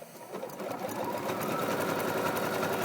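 A Singer Futura sewing and embroidery machine stitches fabric with the presser foot raised, feeding straight through. It gives a fast, even mechanical chatter at close range, steady and alone.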